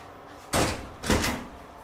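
A door opens in a home with two sharp knocks or bangs about half a second apart, the second trailing into a brief rattle, close and fairly loud with no talk.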